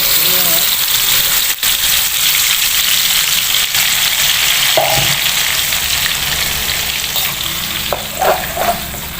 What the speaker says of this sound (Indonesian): Nah ini bumbunya kita tumis dulu ya.